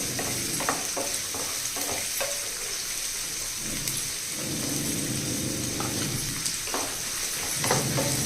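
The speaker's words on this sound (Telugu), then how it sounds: "మధ్య మధ్యలో ఎలా కలుపుతూ ఉండాలండి లేకపోతే ఒక సైడ్ వేగుతాయి ఒక సైడ్ వేగవు" Carrot and other vegetables fry and sizzle in a pan, with a spoon stirring and scraping through them at intervals; a steady close sizzle runs throughout, with no talking.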